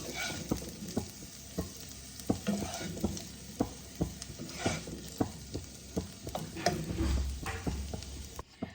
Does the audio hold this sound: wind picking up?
no